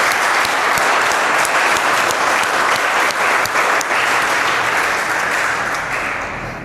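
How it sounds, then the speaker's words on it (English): Dense, steady applause from a classroom audience rewarding a student's correct answer in a mathematics lesson, loud and continuous throughout before tapering off slightly at the end. "Please clap for Chintu."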